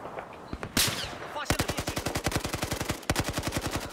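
Rapid automatic gunfire in Battlefield 4, a short burst and then long sustained strings of evenly spaced shots, loud and close, with a brief pause before firing resumes.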